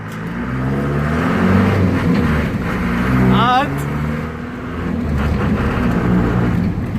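A Ford Transit van with a modified exhaust revs and rumbles up close, its deep engine tone rising and falling in waves, while people talk over it.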